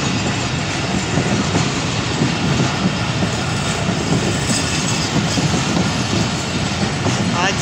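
A Business Express train rolls loudly through a railway station in Pakistan, a continuous close roar of wheels and carriages with rhythmic rail clatter throughout.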